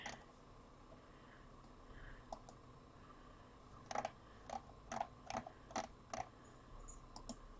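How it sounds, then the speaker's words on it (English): Several sharp, quiet clicks come in a quick series over soft background hiss, each one crisp and close. "You can hear my mouse going click, click, click, click."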